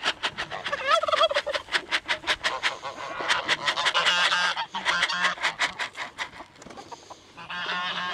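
A close flock of geese honks in rapid, overlapping bursts, while lower gobbling calls mix in; the racket continues steadily throughout.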